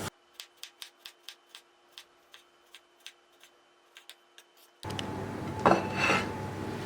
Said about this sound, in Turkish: şimdi domates doğrayacağım.